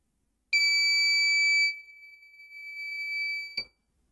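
Electronic buzzer on a homemade temperature and humidity detection device sounds a single steady high-pitched tone for about three seconds, starting loud and sharp, then dropping slightly softer before cutting off abruptly, with a faint click at the end.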